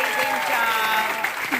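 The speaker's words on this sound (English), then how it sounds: "let's give them a round of applause for doing that" An audience claps in steady, dense applause that continues throughout, with someone talking over it.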